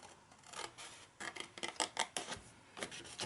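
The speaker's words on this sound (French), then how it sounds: "Donc on va couper ici, ici, et puis en haut de chaque côté de nos plis." Scissors cutting through paper or card along folds for an Easter basket craft, a series of short crisp snips and rasping cuts close by, irregular and fairly quiet, with no talk.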